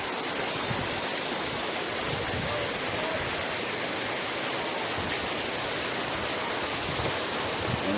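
Two rivers meeting at a junction beneath a high hanging bridge in San Pedro, Jaro, Leyte: a dense, steady rush of flowing water, broadband and unbroken, heard from a distance without voices.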